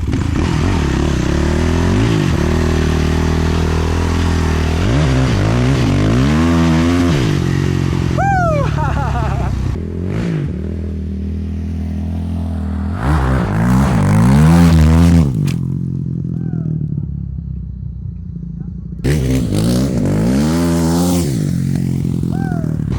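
A Yamaha YFZ450 ATV fitted with a dirt bike cam revs hard and close, its engine rising and falling in repeated sharp throttle blips with rattling and clatter, broken by brief pauses where it drops to idle.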